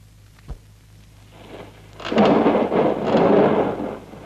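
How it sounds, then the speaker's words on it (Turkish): Thunder in a night storm: a short sharp crack early on, then a long loud rolling rumble that swells and holds to the end, with no voices. "Bu gece müthiş bir fırtına kopacak."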